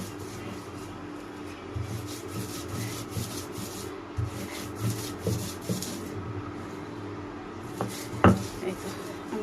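Black cumin paste ground by hand for a Bangladeshi mashed dish, a steady low rubbing and scraping of stone, with occasional thumps and one sharper knock near the end, close and moderately quiet.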